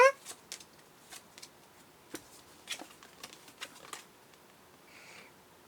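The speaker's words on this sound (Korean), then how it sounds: "한번 생각하면서 카드 뽑아볼게요" Tarot cards are shuffled and drawn at a table, making a series of quiet, crisp papery flicks and taps with pauses between them, close and soft, with no talk over them.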